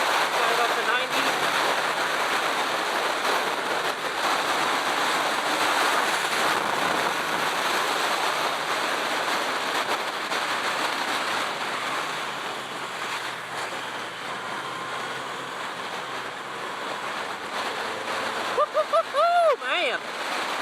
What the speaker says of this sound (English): I'm getting hit by the wind pretty good.